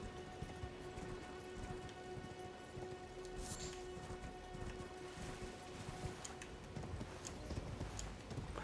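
Steady clip-clop of horse hooves in the video game Elden Ring over a soft rainy background, with rhythmic hoofbeats throughout and a low tonal hum underneath.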